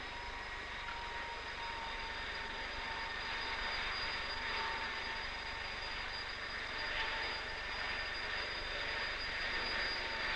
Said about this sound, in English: On November 12, the Avrocar made its first free flight.